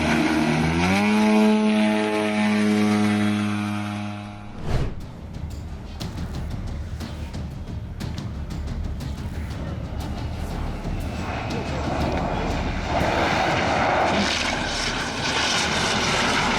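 A remote-controlled model plane's engine gives a loud, steady buzzing whine, then gives way to a broad, close rushing roar that carries on to the end.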